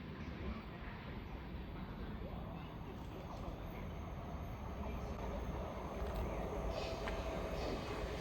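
A Thameslink passenger train passes South Croydon on the Brighton Main Line with a steady rumble and faint squeal, heard from trackside at a constant moderate loudness.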